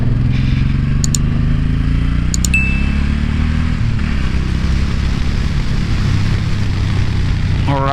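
A 2018 Suzuki Boulevard M109R B.O.S.S. cruiser with a 1,783 cc V-twin, its engine rumbling loud and steady up close as it is ridden, revving and shifting, with a few light metallic clinks and no speech.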